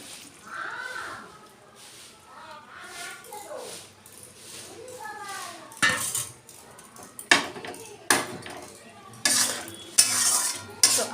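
Ground poppy seed paste going into nearly boiled potatoes in a pan, then stirred with a utensil: metallic clanks and scrapes in the second half, following a dog whimpering and a voice talking early on.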